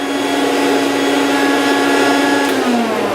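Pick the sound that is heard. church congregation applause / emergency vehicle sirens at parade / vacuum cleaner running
vacuum cleaner running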